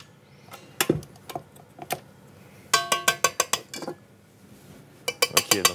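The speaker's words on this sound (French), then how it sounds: "faut quand même bien fouetter, hein, parce qu'il faut quand même qu'il y ait une tenue" Whisk clattering against a bowl while beating cream for a summer fruit tart, coming in short bursts of quick rhythmic metallic ticks with pauses between, close and fairly loud, no talking.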